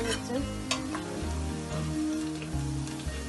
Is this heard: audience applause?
no